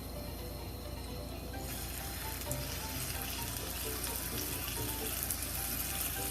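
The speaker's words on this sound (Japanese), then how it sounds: "フライパンが温まったら先ほど下処理した牡蠣を入れていきます" Prepared oysters go into a preheated, oiled frying pan, and a soft, steady sizzle starts and keeps crackling quietly in the background.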